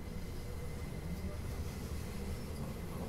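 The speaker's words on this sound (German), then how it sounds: "Und unser niemals endender Zug." An electric railcar train on the Bernina line in Train Sim World 4 runs steadily with a low continuous rumble of wheels on rails, constant and fairly close throughout.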